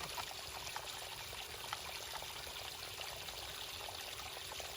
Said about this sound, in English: Watch how the water slows down.